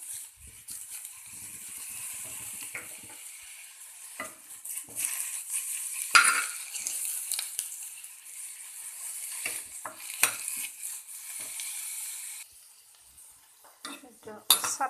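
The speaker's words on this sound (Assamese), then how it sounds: "শুকান চৰুত এনেকৈ লাহে লৰাই থাকিব" Taro leaves being stirred slowly in a dry pot for an Assamese chutney, with repeated scraping and clinking of a utensil against the metal and a soft rustling sizzle, no speech.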